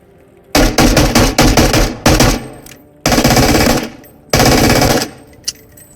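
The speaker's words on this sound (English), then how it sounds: "this is a submachine gun after all. It can shoot 1 by 1 or in automatic mode" A submachine gun firing on full auto in the VR game Into The Radius, with loud, close bursts of rapid shots. Two longer strings come first, then two more bursts with brief gaps between them, and a single faint click follows.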